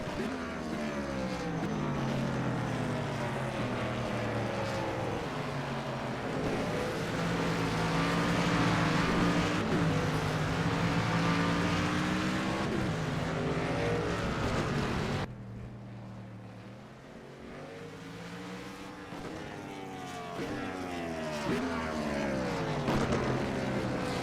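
Race car engine at Mid-Ohio revving hard through the gears, a loud, close, rising and falling whine with a sharp cut in the middle, then the engine climbs again.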